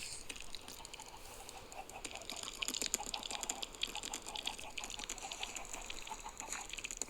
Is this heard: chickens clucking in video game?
yes